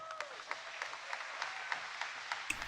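Faint, distant applause from a crowd at a Biden political speech, a brief steady patter of clapping heard from afar with no voices over it.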